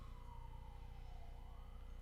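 A siren wails faintly in the distance, its slow falling tone barely rising above a low steady hum.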